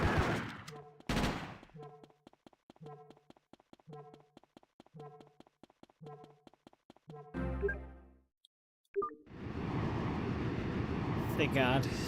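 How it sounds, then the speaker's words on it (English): Gunfire in GTA: Chinatown Wars comes as a regular series of sharp shots, about a dozen evenly spaced pops, followed by a brief burst, a pause, and then a louder noisy stretch. "Is he shooting me through these?"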